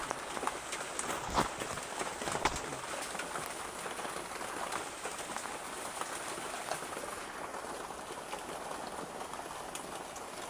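Rain keeps dripping and pattering on a roof in gloomy weather, a constant wash of drops with a couple of louder knocks early on, no one talking.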